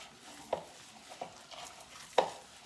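A gloved hand mixes raw meatball mixture, giving soft squishing and slapping sounds with a few distinct pats spaced irregularly, fairly close and quiet with no talking.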